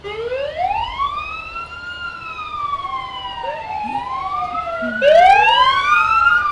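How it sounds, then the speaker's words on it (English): A Pleasant View fire engine siren passes during a nighttime parade of lights, with rising and falling wails that overlap and grow louder near the end as the truck approaches, over a low road rumble. "Pleasant View has another fire engine coming through."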